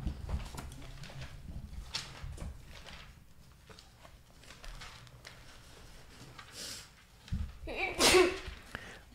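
A single sharp sneeze bursts out near the end, after a stretch of quiet room noise and faint rustling.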